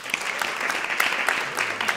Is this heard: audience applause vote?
yes